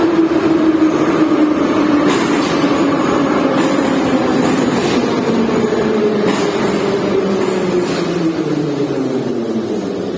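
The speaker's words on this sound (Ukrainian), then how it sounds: "потяг приїхав." A metro train pulls into a station with a loud, steady rumble and a whining tone that slowly falls as it decelerates, with faint clanks over ten seconds.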